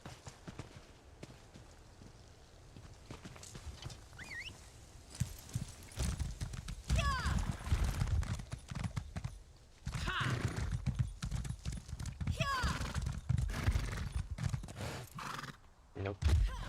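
A horse in The Elder Scrolls Online whinnies several times between bursts of clip-clopping hooves, the hoofbeats loud and close in stretches, with a voice speaking intermittently over the game sounds.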